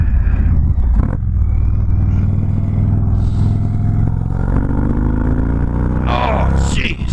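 An Indian Chief Darkhorse motorcycle accelerates hard from close range, its engine note climbing steadily in a loud, continuous pull, with brief wind buffeting near the end.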